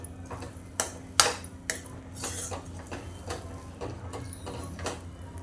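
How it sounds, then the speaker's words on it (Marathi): Dabeli vegetable mixture with plenty of coriander being stirred in a pan, a spoon clinking and scraping against the metal in several sharp knocks over a low steady hum, with no talking. "आता भरपूर अशी कोथिंबीर घालून घेऊया आपण याच्यामध्ये आणि छान परतून घेऊया।"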